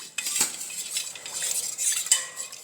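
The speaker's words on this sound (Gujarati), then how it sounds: "સરસ રીતે મિક્સ કરી લઈશું" A metal spoon scrapes and clinks against a bowl while stirring spices for pani puri, a steady run of close, light scraping with a few sharper taps.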